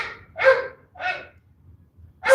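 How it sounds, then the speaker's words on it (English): A neighbour's dog next door barks loudly, three sharp barks spaced about half a second apart, then a short pause and a fourth, fairly close and clear with no talking over them. "Dog next door is being loud."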